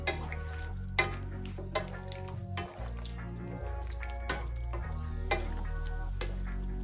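Chicken and mixed vegetables stir-fried in a pan as a slurry goes in, giving a steady sizzle with repeated sharp clinks and scrapes of a utensil against the pan, close and alone.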